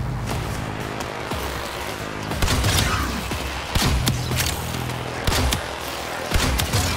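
Enemy gunfire in the Warframe video game: a dense, continuous barrage of shots with periodic heavier thumps and impacts, loud and close throughout.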